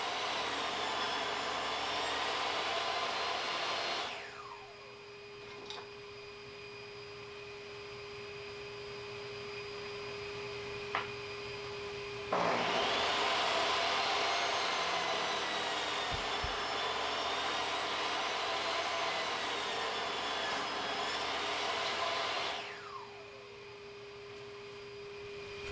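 A saw rips 2x4 pieces to 1.5-inch width in two long, loud, whining cuts, with the motor's steady hum continuing between them.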